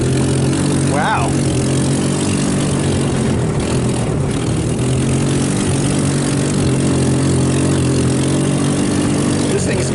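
A salvaged off-road go-kart engine roars loudly and steadily as the kart drifts and does donuts on a lawn in a front pasture, close and constant throughout.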